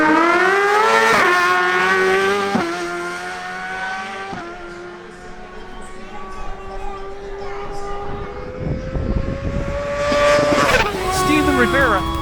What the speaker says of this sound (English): Steven Rivera, on his Suzuki GSX-R1000, makes his run